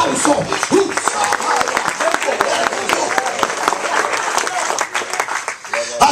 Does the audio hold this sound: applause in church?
yes